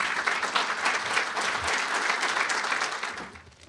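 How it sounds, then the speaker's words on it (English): An audience at a lecture applauds a congressman, a dense, continuous round of clapping at moderate distance that tapers off near the end. "Let's give him another round of applause."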